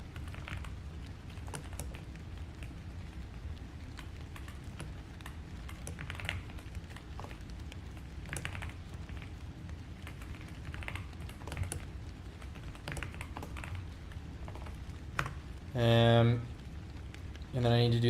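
Rapid clicking of computer keyboard keys during a small web-dev coding session, steady and close throughout, with a couple of louder thumps near the end.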